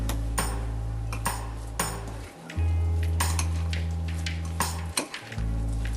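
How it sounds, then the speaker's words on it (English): A fork clinks and scrapes against a bowl while mixing a chickpea, grape and walnut salad with mayonnaise, giving irregular close metallic taps and stirring scrapes over a steady low hum, no talk. "you just want to take your fork and you just want to make sure that it's mixed all together"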